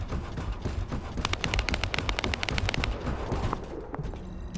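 Rapid bursts of video-game gunfire crackle in dense, fast volleys, a steady rattling stream of shots that thins out near the end.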